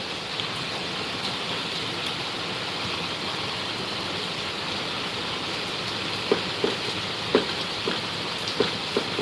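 Heavy rain with water pouring off the roof eaves, a dense, steady rushing wash that fills the whole clip, with a few brief knocks toward the end.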